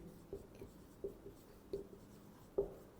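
Pen strokes on paper while handwriting notes, four short scratchy bursts spaced about two-thirds of a second apart, faint and close, with no talking.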